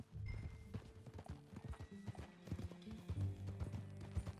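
Horse hooves clip-clopping in Red Dead Redemption 2, a steady trotting rhythm of close, hollow hoof beats with faint ambient game sounds behind.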